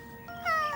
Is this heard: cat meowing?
yes